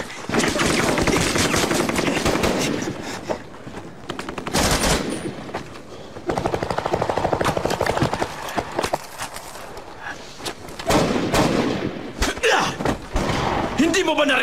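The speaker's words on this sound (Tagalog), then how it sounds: "Hindi mo ba naririnig yung putukan?" Gunfire in a chaotic action scene, with sharp bursts and rapid volleys recurring throughout, mixed with hoof-like clatter, loud impacts and shouting voices.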